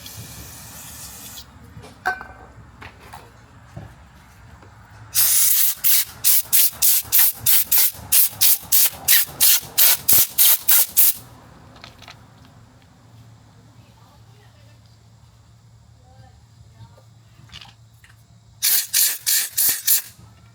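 Carb cleaner sprays onto Toro mower carburetor parts in two bursts: a long, loud pulsing series of about a dozen short hissing squirts, then a brief cluster of a few more after a quiet stretch.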